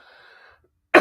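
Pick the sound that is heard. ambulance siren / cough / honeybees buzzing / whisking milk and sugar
cough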